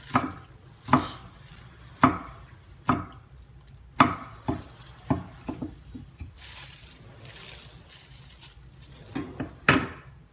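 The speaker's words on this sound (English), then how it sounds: "to chop this garlic in the red pepper" A knife chops garlic and red pepper on a board in sharp, close, irregular strokes, with a few quick bursts and short pauses between them.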